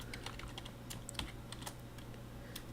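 Keys on a computer keyboard tapped in a quick, uneven stream of light clicks, close and clear over a steady low hum, with no voices.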